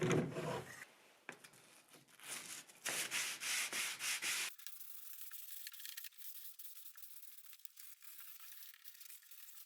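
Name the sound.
sanding a shop-made wooden T-slot track saw guide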